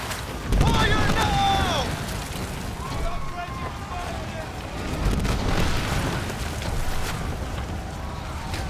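Ship cannons in Skull and Bones fire, with two deep booming volleys set against wind and water noise, plus a few whistling projectile sweeps after the first blast.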